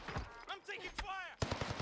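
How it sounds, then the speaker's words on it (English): A rapid burst of automatic gunfire rattles in a battle royale video game after game voice lines, with several sharp, close shots clustered at the end. "I'm taking fire!"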